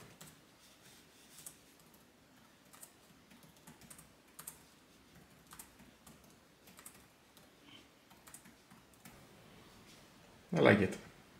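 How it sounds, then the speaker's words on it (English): Typing on the keyboard of an ASUS TUF Gaming F15 FX506LHB gaming laptop: soft, light key taps scattered irregularly at close range, ending in a louder thump. "And the typing experience is very good."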